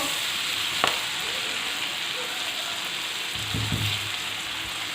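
Green chillies fry in a pan with a constant close hiss of oil and a few soft stirring knocks near the end.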